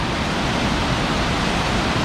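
Rainwater rushing through a lake drainage tube at Upper Girard Lake in Girard, Ohio, a loud, steady broadband roar of churning water echoing close by, with no breaks.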